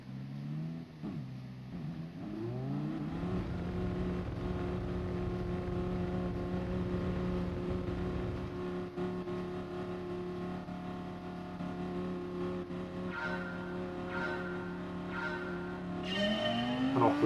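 Race cars in Gran Turismo Sport launching off the start line, engines droning loud and steady, rising as they accelerate with pitch climbing near the end, no voices.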